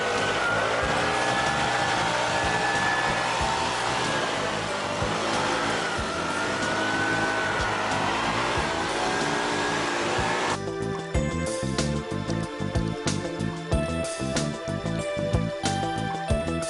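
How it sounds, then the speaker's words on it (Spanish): A gasoline-powered leaf blower roars continuously at close range, a steady airy engine drone that shifts to a choppier, rougher tone partway through, with no speech. "El regulador de potencia nos permite no solamente estar proyectando el aire para llevar las cosas arrastradas a más distancia"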